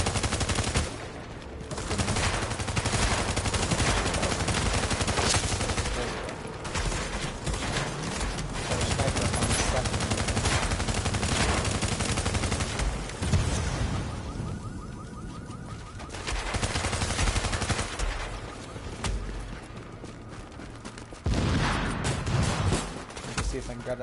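Heavy gunfire from the video game The Division, sustained automatic bursts and explosions filling the scene continuously and loudly, with someone talking over the shooting.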